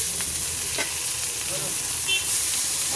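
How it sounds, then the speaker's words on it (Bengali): Leafy greens frying in oil with onion and garlic at a small shop kitchen, a steady close sizzle with occasional stirring scrapes and no talking. "দোকানে শাক ভাজা করছি"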